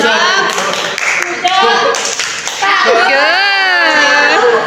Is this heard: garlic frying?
no